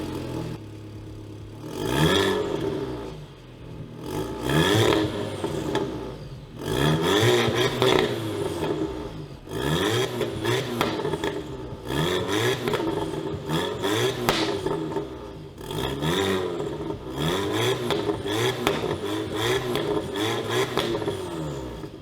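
An Audi TT engine starts and revs up repeatedly, each burst climbing then falling back to idle, loud and close in a regular rhythm of throttle blips.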